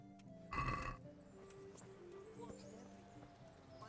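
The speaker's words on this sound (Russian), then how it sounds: "Лошадь Птачека." A horse in Kingdom Come: Deliverance gives a short, loud whinny near the start, followed by soft hoof clip-clops and ambient game sounds.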